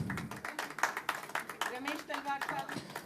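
An audience at a Sufi Urdu poetry album release claps steadily in dense applause, with someone speaking over it through a microphone.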